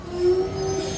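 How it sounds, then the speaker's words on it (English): A Bombardier-Siemens TE-12 light rail train, built 2014, arrives on Mexico City's Tren Ligero line toward Xochimilco, its wheels letting out a sustained, steady squeal over rumbling rail noise, close and fairly loud. "And the next inbound train is already coming in. This is a TE-12, built by Bombardier and Siemens in 2014."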